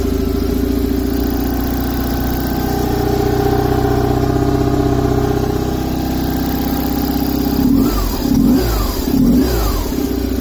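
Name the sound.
BMW R 850 R boxer motorcycle engine starting and revving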